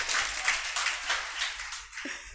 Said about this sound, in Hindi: तालियां एक बार इनके लिए जोरदार।